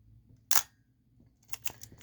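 Asahi Pentax Spotmatic film camera: a sharp mechanical click near the half-second mark, then a quick cluster of softer clicks and ratchets about a second later, close and quiet against a near-silent room.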